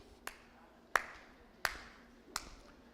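Four sharp, evenly spaced claps ring out during a family church service, fairly close, with quiet room tone between each one.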